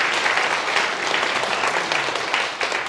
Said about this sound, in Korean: 영광의 박수 한번 드리겠습니다.